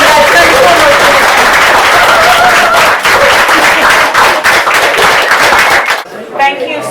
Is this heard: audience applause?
yes